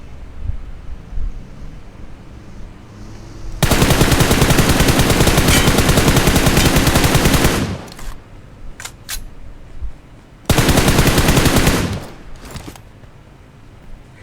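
Loud, close automatic gunfire in a battle royale video game comes in two long sustained bursts, separated by a few short isolated shots, over low background game ambience.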